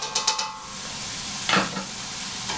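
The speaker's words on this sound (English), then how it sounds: "you're going to saute them until they are pretty transparent" Chopped onions sautéing in a pot for tortilla soup, a steady close sizzle with a few quick stirring scrapes near the start and another burst of stirring midway.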